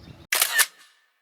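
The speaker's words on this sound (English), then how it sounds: "we're gonna take a selfie" A single quick camera shutter click snaps a selfie, a short close mechanical burst that follows faint voices and fades within a second.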